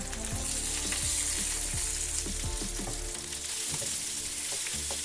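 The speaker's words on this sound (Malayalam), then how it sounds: "ഇനിയിപ്പോ നമുക്ക് പീസുകളെല്ലാം തിരിച്ചിട്ട് വറുക്കാം." Turned salmon pieces sizzle in oil in a frying pan, a close, steady crackling fry with a few spatula scrapes and taps in the first seconds, no voices.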